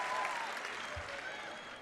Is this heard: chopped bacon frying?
no